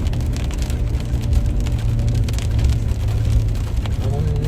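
Steady rain patters as a vehicle climbs a steep road toward Sangkumbong, a constant broadband hiss mixed with low engine rumble and no speech.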